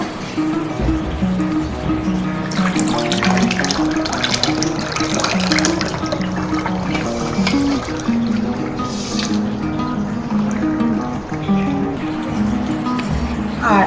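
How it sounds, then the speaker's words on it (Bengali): Raw green mango juice is poured through a strainer, a continuous close splashing and trickling of liquid with clinks, while someone talks over it. "এবার আমি এর মধ্যে ছেঁকে নেবো"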